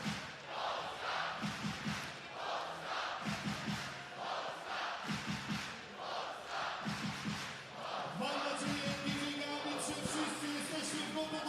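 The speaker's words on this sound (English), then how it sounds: "this crowd is already beginning to chant" A basketball crowd at the FIBA 3x3 World Cup chants during a Team Poland game. It comes across as rhythmic, repeated group shouts and claps, distant and fairly quiet, swelling into a louder crowd roar toward the end.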